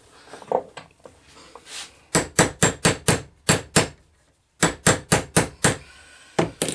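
Repeated sharp hammer blows while building a lightsaber prop, struck in quick rhythmic bursts of four or five with short pauses between, loud and close.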